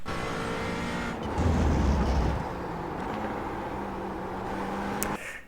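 A McLaren 570S racing car engine in iRacing at Catalunya hums at steady high revs, dips into a deeper growl, then climbs again before cutting off abruptly at the end.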